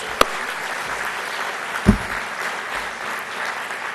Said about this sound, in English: would you give one more round of applause to our panelists and our speakers?